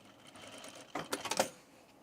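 Sewing machine basting a seam on men's pants in one brief, quiet burst of rapid stitches lasting about half a second, close by with no talking.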